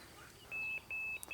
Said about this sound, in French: La centrale vient de biper parce que j'ai déclenché le capteur de mouvement.